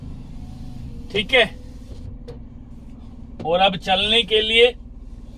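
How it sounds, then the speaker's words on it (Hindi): A car engine idles just after starting, a steady low hum underneath while someone talks over it in two short stretches. "ये गाड़ी का इंजन स्टार्ट हो गया है।"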